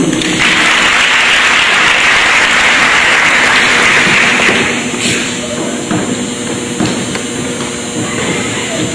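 Loud, dense clapping from an awards-night audience at a 2015 Marlboro County High School event, filling the room for about four seconds and then thinning into scattered claps and room noise.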